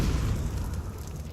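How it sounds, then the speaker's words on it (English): Incendiary grenade in Counter-Strike 2 bursting into a low, roaring whoosh of flame that holds steady and loud through the moment, with a broad rumbling crackle and no voices. "There's an incendiary throw."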